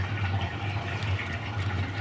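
Water runs steadily from a tap while a face is cleansed with brightening cleansing pads during a winter skincare routine, a continuous splashing rush with a low hum underneath.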